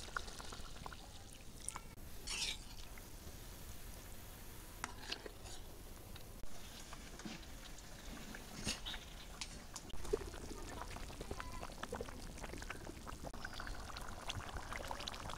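Water is poured into a pot of braised meat cooking with bottle gourd, making a faint, continuous liquid splashing and bubbling over low kitchen background noise with scattered clicks.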